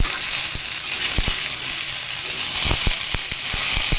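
Mixed vegetables including pumpkin sizzle steadily in a pan, broken by sharp scraping knocks of a spatula stirring them at irregular intervals.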